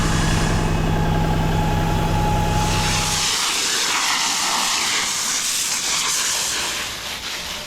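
A John Deere 4450 tractor engine runs loud and steady, a deep droning rumble that gives way partway through to a broad rushing hiss, holding strong before easing slightly at the end.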